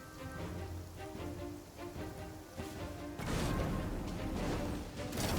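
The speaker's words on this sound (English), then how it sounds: "But I guess it's raining." Steady rain patters on surfaces in the Genshin Impact game, a dense continuous hiss with scattered impact-like taps, growing slightly heavier partway through and holding at a constant moderate level.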